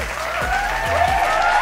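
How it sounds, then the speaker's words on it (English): A short burst of clapping and crowd applause plays over gameplay audio from Shinobi Striker, steady and moderately loud across the whole moment with no voice on top. "Let's clap it up for them real fast, man."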